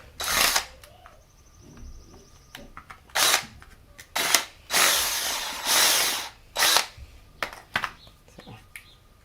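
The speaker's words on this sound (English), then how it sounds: "I just got to get these burrs off here." A power tool grinds burrs off a homemade six-gallon chicken waterer in loud, uneven bursts of whirring and scraping, separated by short pauses, with clicks between them.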